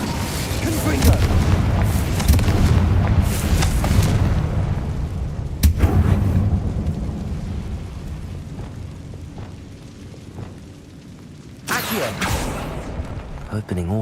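Fire spell explosions in the Hogwarts Legacy video game, a series of loud, heavy booms with a long rumbling burst early on, a sharp crack in the middle and another blast near the end, under a voice talking.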